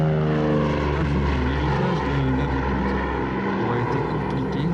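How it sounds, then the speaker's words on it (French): Lockheed P-38 Lightning propeller aircraft taking off from runway 01 at an air show, a loud, steady, close engine drone with a low rumble and harmonic whine, continuous throughout. "Lockheed Lightning P-38 qui décolle vers le nord"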